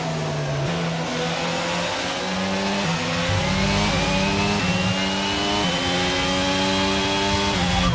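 Screaming F1 car engine in F1 2023 with overtake mode, at the Spanish race, revving hard and climbing through gear shifts in a steady high-pitched drone with stepped upshifts, loud and continuous.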